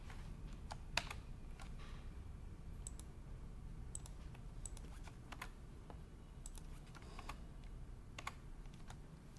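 Code being typed on a computer keyboard during a programming lesson, sparse irregular key clicks and short bursts of taps over a quiet room hum, faint and close with no speech.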